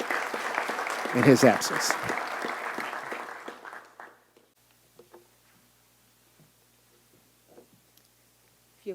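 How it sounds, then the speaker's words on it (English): Applause at a Louisville police promotion ceremony, honoring an absent officer serving on deployment: a full, loud burst of clapping for about four seconds that tapers off, leaving a quiet room where a voice speaks briefly. "Give him a round of applause"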